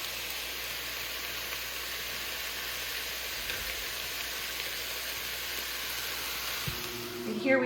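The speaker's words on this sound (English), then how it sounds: "We've got some olive oil going in there, and we're just gonna brown these potatoes" Potatoes O'Brien browning in olive oil in a pan, giving a steady, soft sizzle and crackle that holds evenly throughout, quiet and close with no talking.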